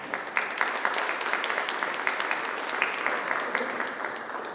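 Steady audience applause for a VFW commander at a Brockton ceremony honoring local men killed in Vietnam, a dense, even wash of many hands clapping from start to end with no talk over it.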